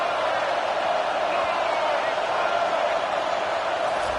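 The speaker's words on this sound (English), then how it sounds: "Decibels rising as the crowd gets behind this defense on 3rd down." A football stadium crowd roars as the defense lines up on third down, a dense, sustained wall of noise that stays loud and even across the whole stretch.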